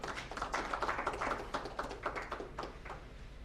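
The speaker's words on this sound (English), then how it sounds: "Let's give them a hand clap as they take their seats." Scattered hand claps from an audience at a tax and budget dialogue panel, quiet and uneven with individual claps standing out, continuing steadily without any talking.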